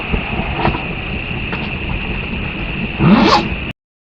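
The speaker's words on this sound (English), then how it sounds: "what you're going to hear is some noise of me rustling around inside my tent" Rustling and shuffling of fabric inside a camping tent, a steady soft scratchy noise with a few small bumps and a louder, closer swishing burst near the end.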